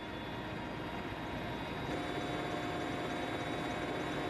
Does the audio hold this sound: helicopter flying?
yes